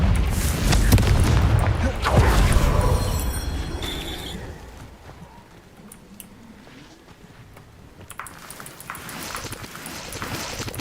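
Fiery Confringo spell blast in the wizarding game Hogwarts Legacy, a loud broadband burst with a booming low rumble that swells early and decays into quieter ambient game sounds.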